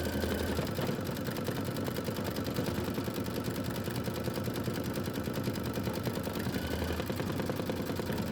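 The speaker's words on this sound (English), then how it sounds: "And then we're gonna sew, we're gonna do the sewing machine." Steady, fast rhythmic stitching of a sewing machine working quilt blocks, running continuously at an even pace close up with no talking over it.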